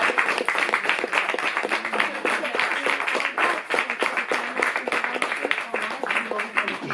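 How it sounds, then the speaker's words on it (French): Bookshop audience at a reading applauds author Temur Babluani, a lively run of close, distinct hand claps with a rapid uneven rhythm, while voices murmur underneath. "je pense qu'on peut vous applaudir"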